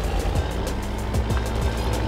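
The heavy, steady drone of a big tractor engine in the Mudrunner video game, a loud low rumble with no talk over it.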